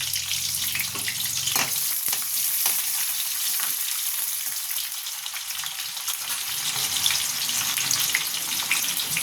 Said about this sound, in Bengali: পেঁয়াজটা একটু ভালো করে ভেজে নেব, বেশি লাল করব না।